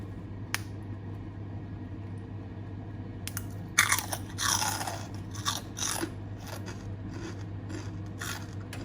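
Crisp, crunchy bites into homemade fat-free Thai pork rinds, close and fairly loud, a cluster of sharp crunches followed by steady chewing over a low background hum, with no talk.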